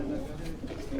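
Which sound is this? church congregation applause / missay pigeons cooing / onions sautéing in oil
missay pigeons cooing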